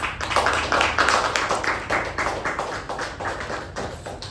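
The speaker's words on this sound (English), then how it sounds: "With a resounding round of applause." Meeting audience clapping to welcome a speaker, a steady patter of many hands close by, fading slightly toward the end.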